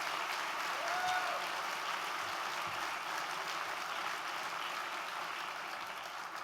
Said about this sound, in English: Let's give another round of applause for his leadership.